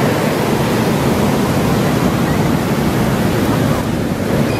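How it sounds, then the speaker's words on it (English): Steady, loud roar of Pacific Ocean surf washing continuously onto the shore, heavy with wind rumble, with no voices. "That's the Pacific Ocean!"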